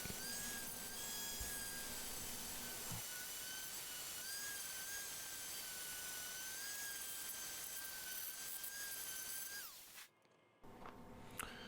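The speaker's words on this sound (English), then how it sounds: "I'm gonna give it a nice little sanding on the inside." A continuous high whine of a power sander running steadily inside a small cherry wood box, close and constant, briefly cutting out near the end before resuming.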